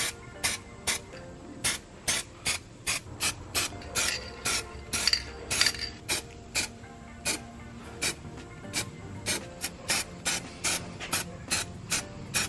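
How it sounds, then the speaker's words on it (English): Top coat sprayed in repeated short bursts onto the underside of a 2019 Ram Rebel pickup, each hiss lasting under a second with brief gaps, steady rhythm throughout, close and clear with no talking. "we're ready to apply our top coat"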